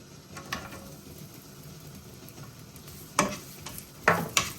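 Ginger stir-frying in a hot pan, sizzling quietly and steadily, with a few louder scrapes and clatters of the spatula toward the end.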